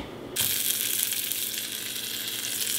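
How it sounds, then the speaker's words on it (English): A couple tablespoons of butter hit a hot cast iron pan over medium-high heat for searing pork chops, bursting into a loud, continuous hissing sizzle that holds steady to the end. "I'm going to throw some butter in here, a couple tablespoons, so we can get these nice and seared"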